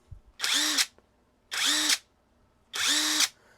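A cheap cordless impact wrench held loosely in the hand, running in three separate bursts of about a second each with short silent gaps, a close, high whirring buzz that engages instantly.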